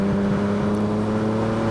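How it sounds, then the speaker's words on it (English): A BMW M4 with an aftermarket exhaust holds a steady, droning engine note, loud and close, with a sustained low rumble and no speech. "So M4 exhaust, absolute thumbs up."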